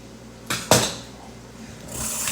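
A kitchen knife cuts up tomatoes for chili, giving two sharp, close knocks against a cutting board in quick succession, followed by quiet and a faint rising hiss near the end.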